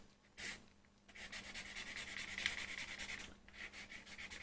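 A nearly dry acrylic marker pen nib is scrubbed across a painting surface in a dry-brush stroke, giving faint close-up rhythmic scratchy rubbing after a brief swipe, with no talking.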